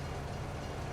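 A European train rolls past in Farming Simulator 22, a steady low rumble of rail noise with no distinct clacks, close and continuous throughout.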